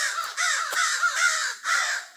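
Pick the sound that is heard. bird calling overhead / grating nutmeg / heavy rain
bird calling overhead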